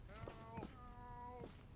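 Cows in the survival game Scrap Mechanic give a few drawn-out, tonal lowing calls, faint and fairly close, one stretched long and wavering.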